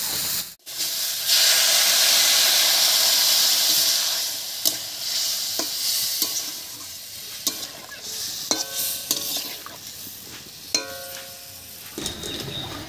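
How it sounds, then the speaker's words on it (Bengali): Cauliflower and other vegetables sizzle loudly as a spice paste thinned with water hits the pan, bursting into a strong steamy hiss that fades into gentler frying. A spoon scrapes and clinks against the pan at intervals, close up, with no voices. "এবার এর মধ্যে মশলা বাটা জল দিয়ে ভালো করে কষিয়ে নেব।"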